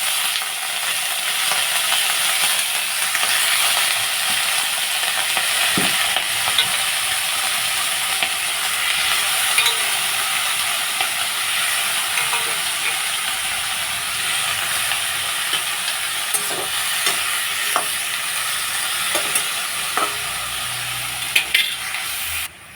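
Vegetables sizzle steadily in hot oil for shukto while a spoon scrapes and stirs through them, a constant frying hiss close up with irregular stirring knocks and no talking.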